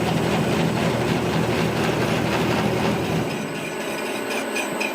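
A ZAY7045V milling machine runs at 246 rpm in first gear while cutting a 1x2 square steel tube, giving a steady loud grinding, rasping drone that drops off somewhat near the end.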